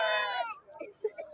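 A Rajasthani goat at a livestock market gives one brief, nasal bleat up close, followed by faint scattered market noise.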